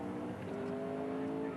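A V8 touring race car's engine cranks and tries to refire after a spin, a steady mid-pitched mechanical drone with a faint rising tone, heard alone at moderate distance.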